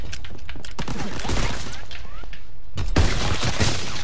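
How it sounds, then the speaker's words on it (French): Battlefield gunfire and explosions in Call of Duty WWII, with enemy artillery fire in a World War II setting: dense, loud, continuous blasts and shots, with a sharper burst near the end. "Tire d'artillerie ennemie!"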